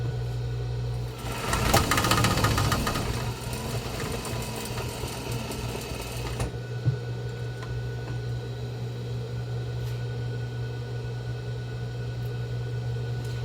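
A sewing machine backstitches a seam on a box-style fabric face mask with a few seconds of fast, whirring stitching. A quieter steady hum carries on alone afterward.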